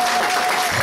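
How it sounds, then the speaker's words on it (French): A church congregation bursts into loud, dense applause at a Sunday healing service, a continuous close wash of clapping filling the whole short moment. "applaudissez pour la gloire de Dieu."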